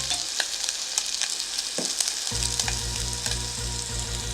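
Bacon strips sizzling in a pan for a Campari bacon cocktail, a steady close crackle with sharp pops, joined about halfway through by a low rhythmic scraping as the pan is worked.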